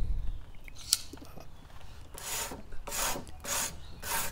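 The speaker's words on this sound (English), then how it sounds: "So you want to go through and mark with a speed square." Pencil strokes mark wood boards for a blanket ladder against a speed square, making short scratchy rubbing sounds that repeat in a loose rhythm close by, with a few light taps between them.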